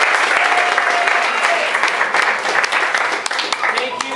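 Dense, loud applause from dinner guests at a gluten-free premiere meal at Watercourse, a short burst of clapping that carries on steadily and then begins to thin out.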